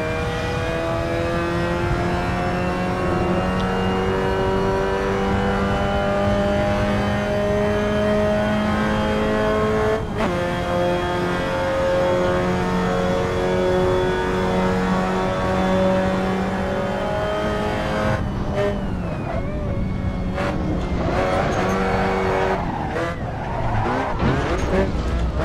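A Mazda MX-5 race car in Assetto Corsa, sim racing at Mugello, its engine droning loud and close through long rising gear pulls, then breaking into choppy revving and tyre squeal near the end as the car slides.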